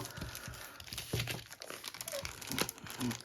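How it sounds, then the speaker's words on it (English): A mounted map from the Decision Games board game Corrupt Bargain: The 1824 Presidential Election is unfolded up close, giving steady crinkling and rustling of stiff paper and card for several seconds, with brief handling knocks. "Let's open up the map and see what we have"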